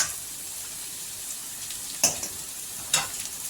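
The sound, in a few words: boiled noodles added and mixed into frying vegetables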